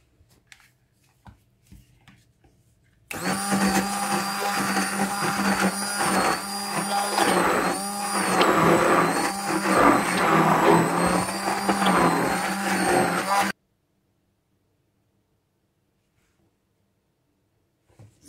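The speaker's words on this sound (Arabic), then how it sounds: "وغادي نبدا نطرب" An electric mixer beats apple cake batter, a steady, loud whirring drone that starts abruptly, runs for about ten seconds and cuts off into silence.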